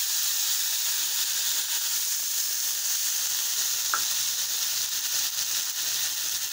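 Angus beef burger patties seasoned with paprika sizzle on a grill in a loud, steady, close hiss, broken by a brief tap near the middle, with no talking.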